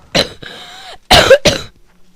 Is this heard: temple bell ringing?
no